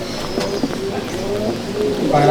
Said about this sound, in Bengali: আসাদ লাইনের পায়রা, একদম পিওর পায়রা